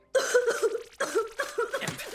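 Several short, harsh coughs from an anime character in Fullmetal Alchemist: Brotherhood, in quick bursts, close and fairly loud, with brief pauses between fits.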